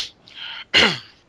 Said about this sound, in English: Look at him clearing his throat.